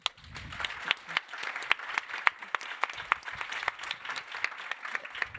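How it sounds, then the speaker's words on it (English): Audience applause at a high-level conference on fundamental rights, with distinct sharp individual claps standing out over a thinner, moderately loud round of clapping that continues for several seconds. "Applaud."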